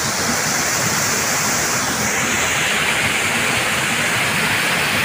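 A waterfall roars steadily and loudly nearby at night, a dense unbroken rush of falling water with no voices.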